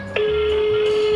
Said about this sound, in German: wir rufen da jetzt einfach mal an. Hier ist die Telefonnummer. Da ist das Handy.